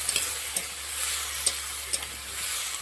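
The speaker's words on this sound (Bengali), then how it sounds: "নেড়ে চেড়ে দেবো" Potatoes fried with chopped onion, seasoned with salt, turmeric and chilli powder, sizzle steadily in a pan while a spoon stirs them, leaving a few soft scrapes in a close, continuous hiss with no talk.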